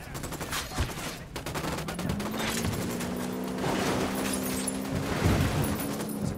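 Sustained rapid gunfire in the video game Ghost Recon Wildlands, a dense continuous fusillade running through the clip with a droning tone underneath.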